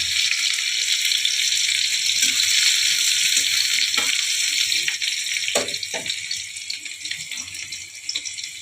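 Chopped onions fry with cumin seeds in a pan, making a loud, dense sizzle that fades a little toward the end, with a few stirring clatters and no speech.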